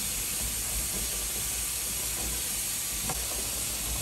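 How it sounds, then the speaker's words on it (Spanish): A pot of broth with chicken bouillon, salt and cilantro sprigs simmers toward a boil, giving off a steady, even hiss and gentle bubbling up close, with a faint tick near the end. "Vamos a dejar que hierva."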